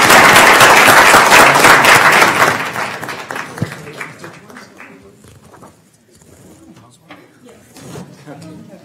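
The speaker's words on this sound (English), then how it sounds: "Can you get a round of applause, please?" A room at a county commissioners court meeting breaks into loud, dense applause that fades out over several seconds, leaving scattered voices and light rustling.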